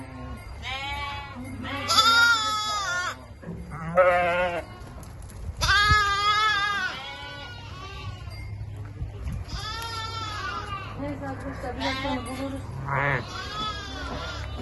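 Several sheep bleat repeatedly, some loud and close, others fainter, with someone talking briefly over the flock.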